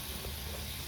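Fish, a homestyle Bengali recipe, is added to hot oil in a pan and gives off a brief, close, steady sizzling hiss.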